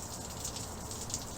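Rain falling outside, a soft continuous patter and hiss with occasional brighter drop sounds, faint and steady without speech.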